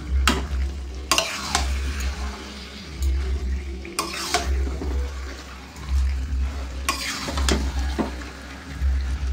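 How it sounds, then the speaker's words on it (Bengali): Chicken curry stirred in a pan, with repeated scraping strokes of a spoon against the metal over a low, steady rumble of cooking. "একটু নাড়বো আর একটু তারপরে ঢাকাতে দেবো"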